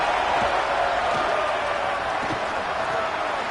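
Stadium crowd at a college football game roaring on a big third down, a dense sustained wall of cheering noise throughout with no clear breaks.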